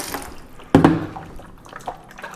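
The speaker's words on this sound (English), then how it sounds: "let's give it a little bit of a clear rinse here" Clear water splashing over a salted paper print in a tray, one sudden pour with trickling and a few small drips after, close and moderately loud.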